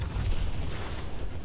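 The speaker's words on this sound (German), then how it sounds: "Okay, hier explodiert gerade alles." Explosions in the video game Fallout 4, set in Nuka-World, forming a dense, deep rumbling barrage of booms with no pause over a second and a half.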